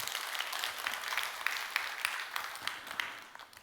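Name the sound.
church congregation applauding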